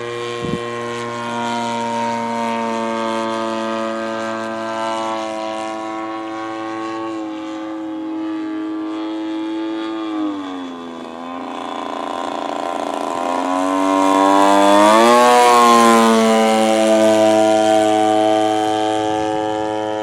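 A large radio-controlled Balsa USA D7 Fokker model airplane's engine drones loudly with a buzzing, propeller-like whine that dips, then swells as it passes closer overhead.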